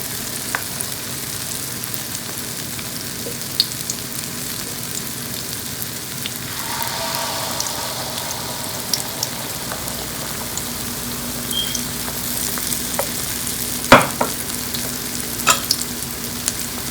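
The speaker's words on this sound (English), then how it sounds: "And we will let it fry just couple of minutes" Malpua batter frying in a pan of hot oil, a steady broadband sizzle throughout with occasional sharp crackles and pops, fairly close and alone without talk.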